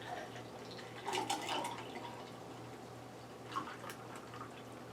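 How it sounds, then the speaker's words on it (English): Fresh juice is poured off from a juicer in a home kitchen, with soft liquid splashes in two brief bursts over a faint steady hum. "we're going to pour off some of this juice"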